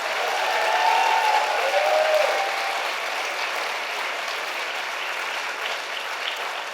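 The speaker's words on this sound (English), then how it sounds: "Let's give them all a final round of applause." Sustained applause from the audience at a gala awards ceremony in Toronto, a dense, steady wash of many hands clapping that stays even for several seconds, with faint whistle-like tones early on.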